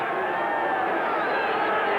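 A boxing arena crowd roars in a steady, dense wash of noise during a WBO super flyweight title bout between Johnny Tapia and Henry Martinez, with no single voice standing out.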